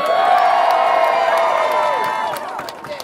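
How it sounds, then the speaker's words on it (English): A protest crowd in Brighton at a 2021 Kill the Bill rally cheers loudly and steadily with whoops and a few claps. The roar holds strong, then eases slightly toward the end. "You can cheer."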